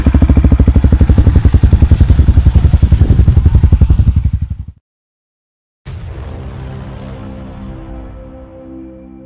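A motorcycle engine on a mountain road idles loudly with a rapid, even pulsing chug, then cuts out abruptly into silence before a quieter mechanical hum and rattle resume.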